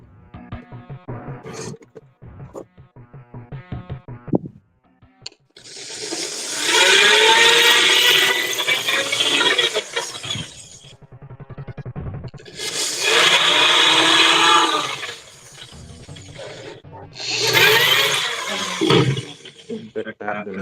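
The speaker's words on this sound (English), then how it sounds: "We can pre-drill this." A power drill pre-drills holes in wood while a workbench is built, whirring loudly in three sustained bursts after a few faint knocks and handling sounds.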